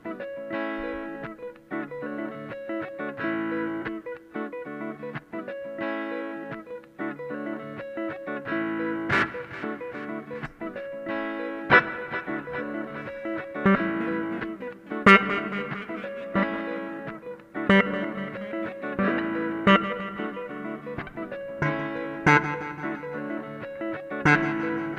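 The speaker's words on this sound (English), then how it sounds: "how you can kind of add percussion with the guitar with using delay and also reverb" Electric guitar playing a repeating rhythmic pattern at a looping workshop, its notes smeared by delay echoes and reverb, with sharp muted percussive strums cutting through steadily.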